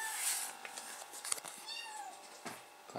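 Cats meow for attention indoors, a couple of soft drawn-out meows in the middle amid faint rustling and background hiss, fairly distant and quiet.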